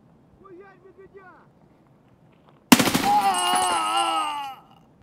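A single loud sniper shot in the shooter game Escape from Tarkov, a sharp crack followed by a long ringing, rumbling echo that fades away, after a brief stretch of faint muffled voices.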